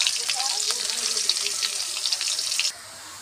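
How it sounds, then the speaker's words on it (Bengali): Chopped medium onion hitting hot oil in a pan, a steady bright sizzle and crackle that runs close and loud for most of the moment, then cuts off abruptly near the end. "তেলের মধ্যে দিয়ে দিচ্ছি কেটে রাখা পেঁয়াজ কুচি"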